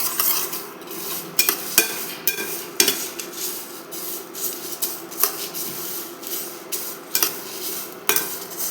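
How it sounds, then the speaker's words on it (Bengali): Whole spices for a hot hog plum pickle stir-fried together in a pan, with a steady soft sizzle broken by repeated sharp scrapes and clinks of a spoon against the metal, close and busy throughout. "সব মশলা আমি একসাথে ভেজে নেব।"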